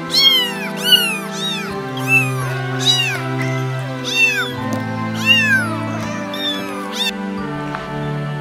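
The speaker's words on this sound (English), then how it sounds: "Oh my God, it's kittens." Several kittens meow repeatedly, with high, wavering cries overlapping in an uneven rhythm, loud and close, with no talk.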